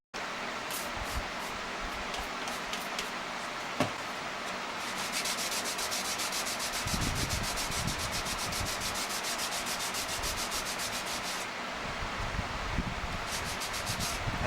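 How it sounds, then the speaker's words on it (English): Continuous scratchy rubbing of 220-grit sandpaper worked back and forth by hand on a steering wheel, steady and close, with a few light knocks along the way. "I'm sanding it with 220."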